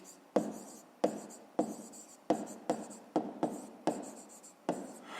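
Pen writing in a notebook, about nine quick scratchy strokes in an uneven rhythm, close and faint with no talking.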